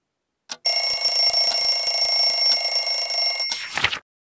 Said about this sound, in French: Le réveil fait dring.